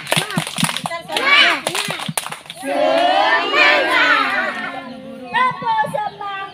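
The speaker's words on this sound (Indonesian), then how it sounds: "Semangat. Tepuk semangat dua kali." An audience claps in short rhythmic bursts for a spirit chant, with sharp clap groups between loud shouted and cheering voices, children's voices among them, close and energetic.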